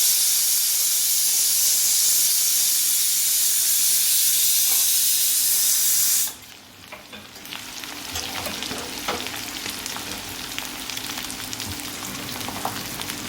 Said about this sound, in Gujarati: મેથીને આદુ બધું શેકાઈ ગયું છે.